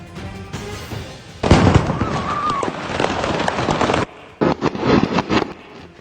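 Firecrackers bursting at fireworks stalls in Tabok, Kalinga, heard as a loud, dense crackle of pops and bangs for several seconds, with a brief drop before more scattered bursts follow.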